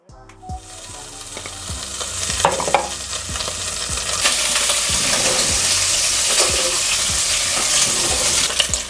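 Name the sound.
bacon frying in a pot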